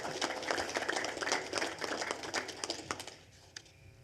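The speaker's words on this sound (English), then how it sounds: "Let's give us all a round of applause." An audience at a Coast Guard Auxiliary training meeting in Dayton, Ohio bursts into a round of clapping, dense and moderately loud, that thins out and fades over the last second.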